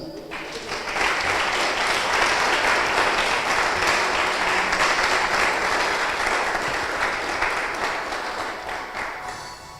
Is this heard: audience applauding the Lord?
yes